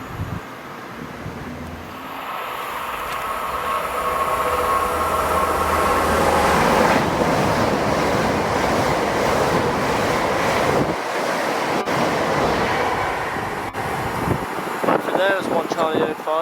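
A train passes through Keynsham station, its broad rushing roar swelling and staying loud for several seconds before fading, with sharp rail clicks near the end.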